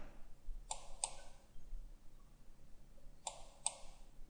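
Two pairs of crisp computer mouse clicks, each a quick double click, in a quiet room during work in Autodesk Inventor 2015 CAD software, one pair early and another about three seconds later.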